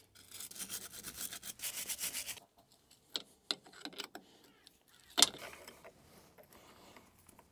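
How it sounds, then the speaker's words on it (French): A wire brush scrubs paint off the threads of a steering damper in rapid, steady rasping strokes, close and fairly loud, followed by scattered metallic scrapes and knocks. "je vais venir retirer à la brosse métallique la peinture qui a été mise ici sur le filetage"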